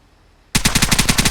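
Automatic gun firing in the video game Vigor: after a quiet moment, a rapid, loud burst of about a dozen evenly spaced shots rattles off close by, with no talking.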